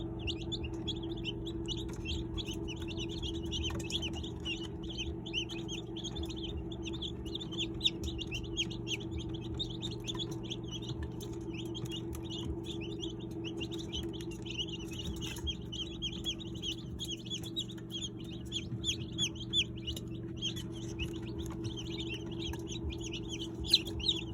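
Day-old chicks of heritage and native chicken breeds peep continuously in rapid, high, overlapping chirps, fairly faint against a steady low background hum.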